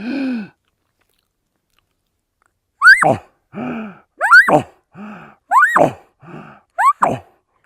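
A voice imitates an elk's chuckle call: a short strained note, a pause, then rising squeals alternating with grunting gasps and hard inhalations, close and loud.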